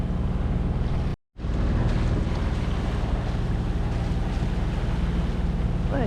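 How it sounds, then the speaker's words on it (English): A sailboat motors toward a Caribbean mooring anchorage under engine power in light wind. A steady, loud engine drone with wind rush runs throughout, broken by one brief dropout early on. "It's only a couple of miles, so we'll just motor in."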